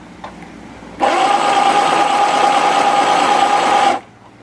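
Portable electric sewing machine stitching, a steady high whirring hum lasting about three seconds that starts and stops abruptly, close and loud, with no talking.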